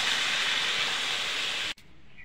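Water hits a hot pan of fried taro seasoned with salt and turmeric, setting off a loud, steady, close sizzling hiss that cuts off abruptly, with no talking.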